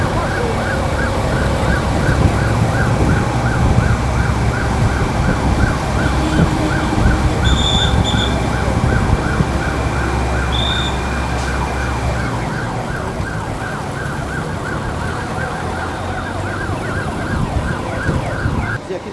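An ambulance siren wails loudly and continuously with a steady cycling tone, heard near at an emergency scene at a supply center, with traffic rumble underneath and no talking.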